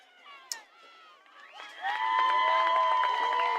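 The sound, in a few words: fans in the stands cheering at soccer championship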